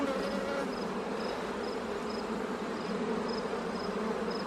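Honey bees hum in a dense, steady drone while a brood-filled hive is opened for inspection, the buzzing close and continuous throughout with no one talking.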